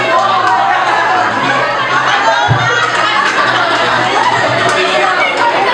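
A crowd at a 2008 school grand reunion during a quiz game chatters and shouts at once, loud and continuous, with voices mixed throughout and a brief laugh.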